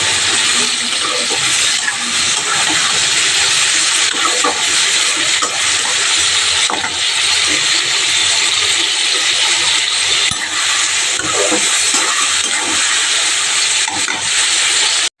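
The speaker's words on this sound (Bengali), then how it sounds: "সাদা তেল দিয়ে ঘি দিয়ে ভাজছি" Rice fries in white oil and ghee with cauliflower and whole chillies, giving off a loud, unbroken sizzling hiss close by that cuts off abruptly at the end.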